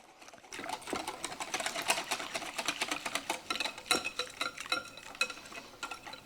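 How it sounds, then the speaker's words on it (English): Vegan crepe batter with cornstarch and baking powder whisked in a bowl, a fast continuous rhythmic clicking and scraping of the whisk heard close up for several seconds. "And all we're going to do is whisk this all together."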